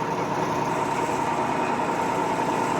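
A Lagun FTV-1 Bridgeport-style manual milling machine with an R8 spindle runs steadily, giving a loud, even motor drone and whine with no pauses and no speech.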